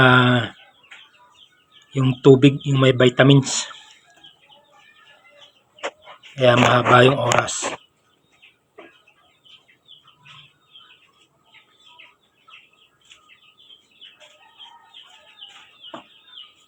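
Pet hens and a rooster cluck in loud bursts at close range while someone talks over them, with quieter clucks and scattered bird calls in the gaps.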